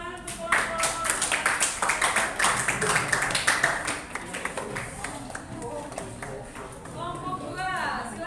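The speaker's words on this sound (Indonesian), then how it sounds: "Tepuk tangan untuk kelompok." Classroom applause for a student group, irregular claps from several children over the first few seconds, fading as voices and chatter take over near the end.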